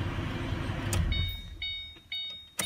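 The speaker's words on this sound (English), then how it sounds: "Let me turn off the vehicle." A vehicle engine is switched off during diagnostic scanner testing. A steady low idle rumble dies away about a second in, followed by a few sharp clicks in the quiet cabin.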